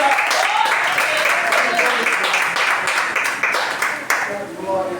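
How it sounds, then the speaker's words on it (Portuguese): A church congregation claps joyfully to welcome a brother, lively rhythmic clapping with cheering voices mixed in, fairly loud and close. "Vamos receber o nosso irmão com as palmas bem alegres para Jesus."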